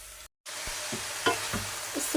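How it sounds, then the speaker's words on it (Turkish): Steady sizzling of onions in a hot pot, broken by a brief gap, then soft bumps and stirring scrapes as nettles go in and get moved around. "şimdi içine ısırganlarımı bırakacağım"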